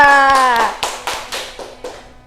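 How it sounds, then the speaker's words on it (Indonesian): A classroom of children claps for student groups: several sharp, separate claps ring out after a brief sung tone, close and spaced irregularly, fading over a couple of seconds. "kita beri tepuk tangan untuk kelompok 1 dan kelompok 2."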